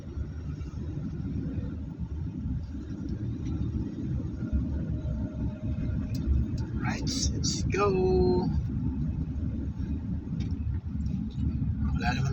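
Steady low road rumble heard from inside a moving car in traffic near Alabang Hills, with a constant engine and tyre drone throughout and a brief higher whine of a passing vehicle in the middle.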